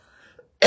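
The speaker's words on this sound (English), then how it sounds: "I'm going to cough again." A single short, sharp cough close to the microphone, bursting out after a near-silent pause and a faint throat sound.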